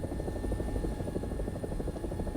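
An AB 205 helicopter in a video game drones loudly and steadily, its turbine whine and thudding rotor wash forming one dense, unbroken roar with no voices over it.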